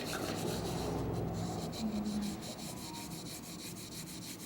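A Demko AD20S knife blade is polished by hand, giving a steady, close rubbing and scraping with a rhythmic back-and-forth texture and no talking.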